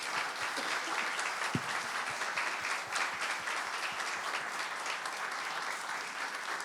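A church congregation applauds the mothers, a loud, dense and continuous burst of clapping that stays full and even throughout, with no voices over it.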